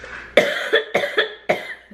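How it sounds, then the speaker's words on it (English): A woman coughs four times in close succession, loud and near, each burst harsh and abrupt, with no other sound around it. "Oh my goodness, I have to cough here."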